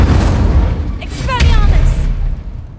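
Incendio fire spell cast in the Hogwarts Legacy video game, a loud booming whoosh with rumbling low-end bursts and bright crackling flares layered over the game's background sound.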